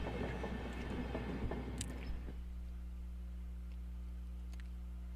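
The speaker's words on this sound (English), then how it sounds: "It seemed the train has reached its final stop." A train in the Higurashi video game comes to its final stop, a low rumbling carriage noise with rattling that settles into a steady hum, a couple of faint clicks near the end.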